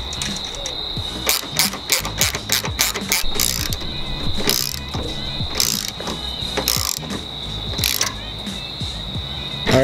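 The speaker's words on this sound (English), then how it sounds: "my brother is tightening in the last nut to secure this to the trunk" A ratchet clicks in quick bursts as a nut is tightened to fix an APR GTC-300 67-inch rear wing to a car trunk, close and fairly loud, with pauses between strokes and a faint steady high tone behind.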